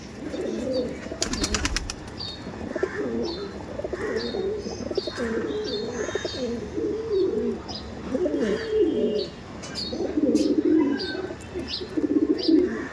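Giribaj high-flying pigeons cooing and chirping steadily near at hand, with a brief burst of wing flapping early on and soft sounds throughout.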